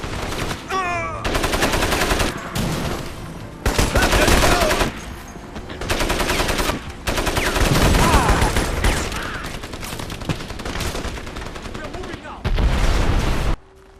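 Bursts of heavy automatic machine gun fire from a jeep-mounted gun turret in the Crysis first-person shooter, several loud sustained volleys separated by short pauses, with game effects between them.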